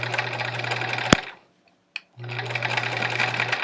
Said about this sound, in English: Alrighty, let's sew.